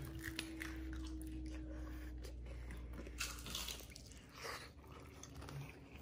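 Crispy fried crab rangoons being bitten and chewed up close, with moist crunching and soft mouth sounds repeating over a few seconds, no talking.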